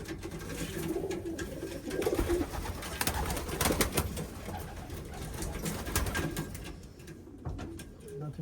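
Pigeons coo repeatedly inside a pigeon loft, their soft throaty calls overlapping at close range against a faint background hum.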